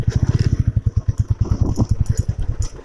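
A Royal Enfield Bullet motorcycle engine idles close by at a temple with a steady, rapid thumping beat that stays even and loud throughout.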